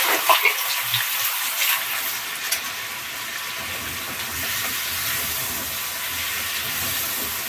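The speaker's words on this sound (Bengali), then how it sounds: "এখন আমি এই তেলেই আলুটা ভাজবো।" Potatoes frying in hot oil left over from frying chicken, with turmeric and salt added, giving a steady, loud sizzling hiss that runs throughout, with a few sharper spits near the start and no talking.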